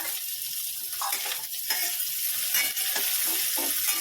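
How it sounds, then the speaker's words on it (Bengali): Onion frying with vegetables in a pan for chow mein, a steady close sizzle with scattered stirring scrapes and clinks, no voices. "এখন পেঁয়াজ ভাজা হচ্ছে সবজির সঙ্গে তারপরে ডিম ভাজা হবে"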